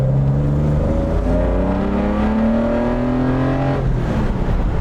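A restomod 1972 Datsun 240Z engine revs loudly from close by, the note rising smoothly through the revs before dropping back as the throttle eases off.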